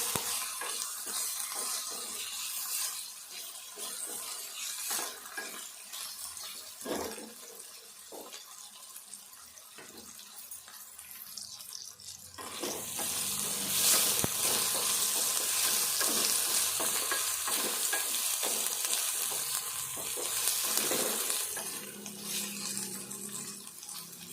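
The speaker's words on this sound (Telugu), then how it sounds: "వంకాయలు ఇట్లా మంచిగా వేగాలి." Brinjal and onions frying in a pan give a steady crackling sizzle with occasional stirring scrapes, close by, and the frying swells noticeably louder about halfway through.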